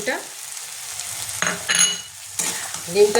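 Eggs sizzle and spit in a kadhai masala with fenugreek leaves, a close steady fry broken by louder bursts of crackling as the pan is stirred.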